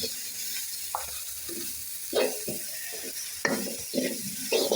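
Egg kottu with chilies being stirred and fried in a pan: a quiet background sizzle broken by several clattering stirring scrapes that grow louder toward the end, with no talking.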